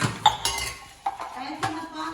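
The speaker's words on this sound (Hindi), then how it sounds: "मैं अपना बर्तन धो रही हूँ जो हमने कुल्फे खाए थे" Dishes and spoons being washed after eating kulfi, with sharp metallic clinks and clatters of utensils knocking together in a few quick bursts, close by.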